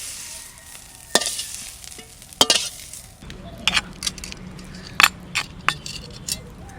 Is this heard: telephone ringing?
no